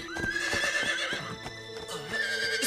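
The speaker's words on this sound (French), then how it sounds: "Le cheval de Pocahontas, mais qu'est-ce qu'il nous veut" A horse whinnies loudly with rising and falling pitch, its neighs repeating over about three seconds alongside hoof clip-clops.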